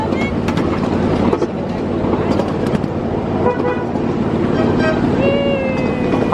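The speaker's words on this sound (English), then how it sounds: "You see that train coming, buddy?" A miniature live steam train at the L.A. Live Steamers track approaches with a rumbling run and high whistle toots near the end, while voices murmur in the background.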